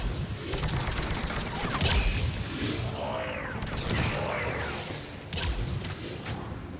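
Sustained gunfire from a firefight in the video game Mass Effect 3, a dense clatter of shots and mechanical impacts rolling on for several seconds at moderate distance, with no talking.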